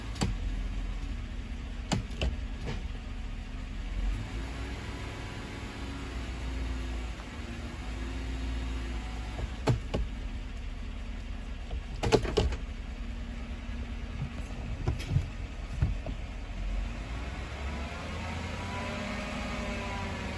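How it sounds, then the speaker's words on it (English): 2014 Chevrolet Silverado engine during a transmission fluid exchange, a steady low idle rumble that swells gently as the throttle is raised, with occasional faint clicks and taps nearby and no talking. "I will give a little acceleration just to try to force fluids"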